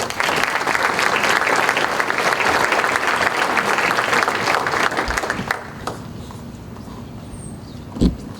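Loud, steady applause from an audience at a school scholar awards ceremony for a winner's high achievement, filling most of the clip before it fades to quiet room noise with a single thump near the end.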